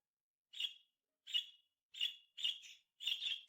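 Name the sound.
small golden bird chirping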